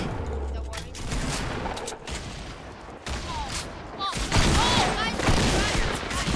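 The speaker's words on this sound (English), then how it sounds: "Oh, we got hit with nades." Grenade blasts and gunfire in a Fortnite Battle Royale squad match, a continuous noisy barrage with booming hits near the end, under overlapping player chatter.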